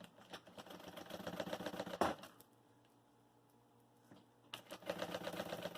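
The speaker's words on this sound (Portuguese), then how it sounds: "Agora eu fecho a outra lateral com pé de máquina." A sewing machine with a presser foot stitches the side seam of an unlined cooler bag, running in two steady rattling bursts with a quiet pause between, close and without talk.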